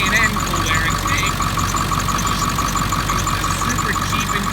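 A 2001 Ford F250 Powerstroke diesel pickup with about 150,000 miles idles with a steady, loud, close mechanical drone. Thin, high squeaks from a worn pulley rise above it, most noticeably near the start.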